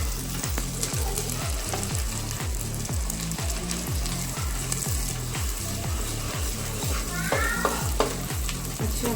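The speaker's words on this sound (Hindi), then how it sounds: "अच्छा भून लेंगे इसको पहले" Ginger-garlic paste with ground chilli and chicken stock fries in a pan for chicken fried rice, with a steady loud sizzle and repeated rhythmic scraping strokes of stirring throughout, and no talk.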